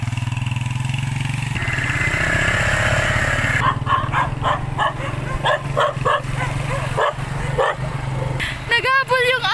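A dog barks repeatedly in quick bursts over a loud idling motorcycle engine, with a few higher yelps near the end.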